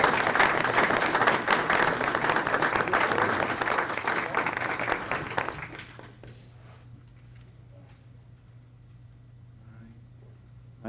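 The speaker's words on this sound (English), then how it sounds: "So if you could come on up and receive some applause," Applause at a village board meeting for an award recipient, a dense burst of clapping from a modest room that runs about five seconds and cuts off sharply, leaving quiet room hum.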